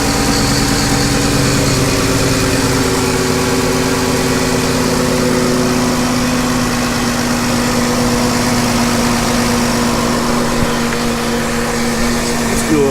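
A rebuilt 2013 Dodge Avenger engine idles steadily after its rebuild, a loud, continuous, even mechanical hum with a constant low drone and no revving, heard up close throughout.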